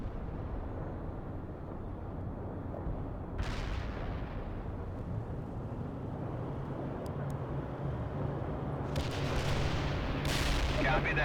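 Heavy artillery firing in the video game World in Conflict, a few sharp booming reports rising out of a dense, rumbling battlefield roar, with the later blasts louder and closer.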